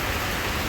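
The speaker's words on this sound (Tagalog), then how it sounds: "Too much raining there." Heavy rain pouring down in Dubai, a steady, dense wash of noise with no pauses, close and fairly loud throughout the brief moment.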